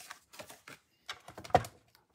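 Scissors snipping a small paper shape for a handmade mixed-media card, a short run of crisp, close cuts with brief pauses between them and one louder snip near the end, no voices.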